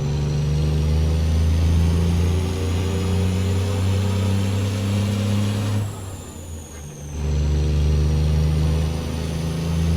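A Cat C-12 diesel engine in a truck hauling dirt in American Truck Simulator drones with a steady low rumble, dips briefly as if during a gear change, then resumes its loud, even hum, with no talking.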